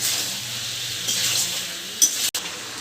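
Turmeric being stirred into a jackfruit and shrimp curry in a frying pan, a steady close sizzle with scraping stir strokes and a sharp clink near the end, no talk.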